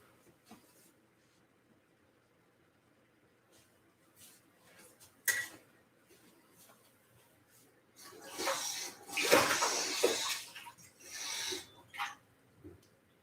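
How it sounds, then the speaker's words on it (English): Water poured into a pan of teriyaki chicken in a home kitchen, a splashing, sizzling rush for several seconds after some quiet clinks and taps, fairly close. "we're going to add the water"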